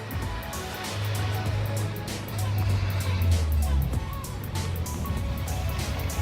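Turbocharged car passing on a street, its engine rising and falling in a low drone over a few seconds, with faint whooshing and tire noise and people chatting over it.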